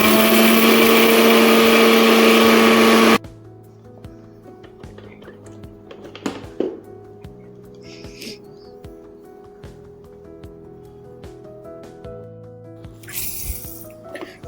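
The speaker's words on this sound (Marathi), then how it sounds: "अशा प्रकारे आपल्याला सर्व ड्रायफ्रूट्स एक एक करून मिक्सरला बारीक करून घ्यायचे आहेत." A kitchen mixer grinder grinds dry fruits and pumpkin seeds for ladoos, roaring loudly for about three seconds and then stopping abruptly, followed by quiet clatter and handling sounds.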